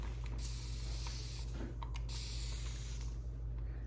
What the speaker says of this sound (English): Now we're gonna spray.